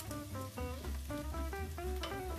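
Pancetta and vegetables sizzle in a pan while being stirred for a Sicilian-style rigatoni Bolognese: a steady close frying crackle layered over sustained tonal sounds, with no talking.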